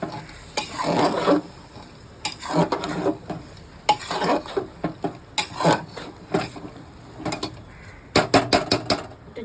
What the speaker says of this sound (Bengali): এটা ঢেলে দেবো, ডালিয়াটা। একটু ভালো করে নাড়িয়ে দিচ্ছি।